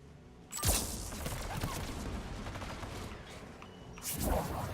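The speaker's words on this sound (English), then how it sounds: "There! Anti-aircraft guns!" Anti-aircraft guns fire in Mass Effect 3, a dense, continuous volley of rapid gunfire with sharp bursts near the start and end, loud and sustained throughout.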